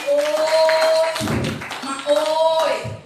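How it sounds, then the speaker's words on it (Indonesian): Church congregation clapping along during a worship service, a rapid crowd of hand claps rising and falling in two bursts beneath a preacher's voice and sustained music tones. "Berikan tepuk tangan untuk Tuhan."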